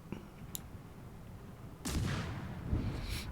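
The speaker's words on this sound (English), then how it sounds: "Queen Mary gets a nice salvo into him" A naval gun salvo from a warship in World of Warships lands as a sudden heavy boom with a rumbling tail, following a quiet stretch broken by a few faint distant shots.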